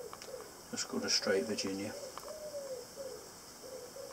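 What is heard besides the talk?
wood pigeons cooing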